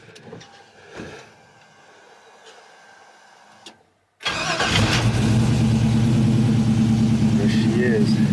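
After a few quiet seconds of faint handling noises, a 1952 GMC truck engine cranks and catches, then settles into a loud, steady rumbling idle close by.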